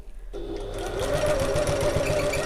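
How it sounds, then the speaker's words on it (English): Sewing machine running steadily between darts inside a seam allowance of a pocket, a continuous close whirring motor with rapid needle rhythm starting after a brief quiet moment. "So I'm just going to sew between the darts inside the seam allowance."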